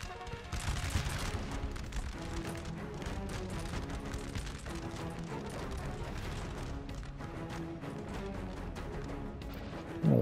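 Musket fire in Napoleon: Total War during a battle involving Austrian and Prussian forces, a continuous crackling fusillade of massed volleys heard at a distance, fairly faint and rumbling throughout.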